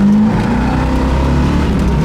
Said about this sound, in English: And it picks up speed fast, man.